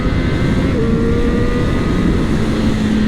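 Triumph Street Triple 765 motorcycle roars steadily on a road with a bumpy surface, its engine pitch stepping up quickly as gears change over a few seconds, with constant wind rush.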